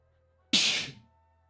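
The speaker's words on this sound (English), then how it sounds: "I sneeze." A single sharp human sneeze bursts out suddenly and close, then trails off quickly into quiet room tone.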